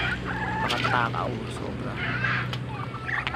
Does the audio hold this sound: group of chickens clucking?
yes